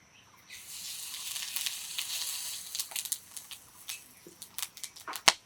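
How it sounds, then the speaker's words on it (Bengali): Whole spices — dried chili, bay leaf, cinnamon, cardamom and cumin — hit hot oil after fried potatoes come out, giving a steady loud sizzle with sharp crackles and pops building toward the end, no talking. "তেলের ভিতর ফোড়ন দিয়ে দেব। একটা শুকনো লঙ্কা, তেজপাতা, দারচিনি আর এলাচ আর গোটা জিরে।"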